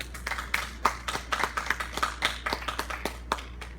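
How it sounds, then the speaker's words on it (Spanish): A congregation clapping during a church sermon, with a loose, uneven patter of individual claps from a modest group rather than a full roar, fairly quiet and distant in the room. "Dale un fuerte aplauso al Rey."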